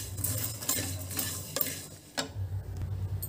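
Poppy seeds being roasted in a pan on a low flame, with light scraping and stirring scratches, faint crackle and occasional spoon clicks against the pan, close up with no talk.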